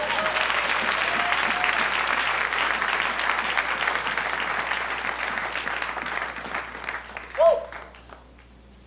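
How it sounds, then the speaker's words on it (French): Congregation applauding during a French-language church service, a loud, dense wash of clapping that gradually thins and fades toward the end, with a brief voice rising just before it dies away. "Donnons une bonne main d'acclamation à Dieu."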